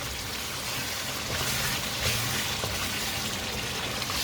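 Yogurt liquid in a beef karahi sizzling and bubbling dry over high heat, a dense continuous hiss heard close and alone.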